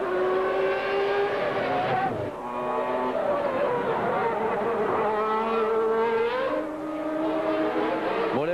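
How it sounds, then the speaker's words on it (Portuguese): Formula 1 race cars at the Australian Grand Prix scream past in a continuous high-pitched engine wail, several cars overlapping with rising and falling pitch as they pass, loud and steady throughout. "Olha o Mansell como escorregou, como trouxe bonito de volta."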